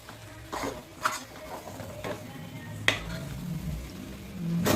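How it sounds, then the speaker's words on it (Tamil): Spoon stirring sambar powder into a lentil and vegetable kuzhambu in a pot, several soft scraping clinks and taps at uneven intervals over a faint background hiss. "இப்போ இதை நல்லா கலந்து விட்டுலாம்"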